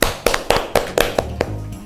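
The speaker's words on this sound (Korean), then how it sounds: "일단 젊어진 우리 모두를 위하여 박수로 한번 쳐볼까요?" A few sharp, evenly spaced hand claps, roughly four per second, close and clear, with no voices, in a Korean studio segment on the unified age-counting law.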